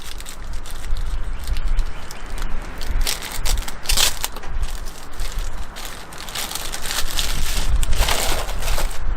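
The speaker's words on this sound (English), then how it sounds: "Let me get it out of this plastic bag here." Close, crackly rustling of a thin plastic bag being crumpled and pulled as a wildlife trail camera is taken out outdoors, continuous with sharper crinkling bursts and a steady background hiss.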